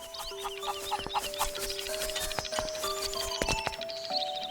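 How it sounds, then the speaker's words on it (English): Flying Rooster clucking in Zelda: Link's Awakening, a string of short chiptune-style clucks and crows over game music, loud and alone with no voices. "Here sleeps the Flying Rooster."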